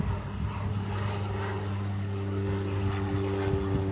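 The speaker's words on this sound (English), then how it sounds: "catch the little airplane" A small propeller airplane flies near an airport in the Bahamas, its engine giving a steady droning hum at moderate distance under constant wind and background noise, with no talking.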